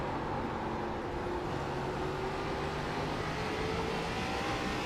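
An ARCA stock car in iRacing runs a lap at South Boston, its engine a steady, loud droning hum with a slowly rising pitch, continuous and alone without speech.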